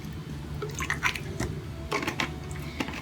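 Rice water poured from a container into a bowl, with intermittent splashing and dripping bursts close to the microphone, no talk.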